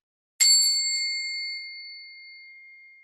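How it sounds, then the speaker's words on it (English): A Tibetan singing bowl struck once, a bright metallic strike that settles into a clear, sustained ringing tone, fading slowly over about three seconds in otherwise quiet surroundings. "Let's do a little bell, Tibetan bowl."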